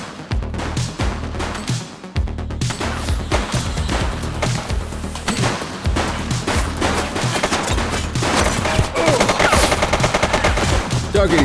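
Dense gunfire in a police shootout during The Precinct video game, with continuous rapid machine-gun bursts and overlapping shots, loud and close, under a layer of game sound.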